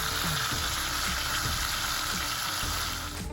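Onions frying in a pan, a steady close sizzle and crackle with light stirring scrapes throughout.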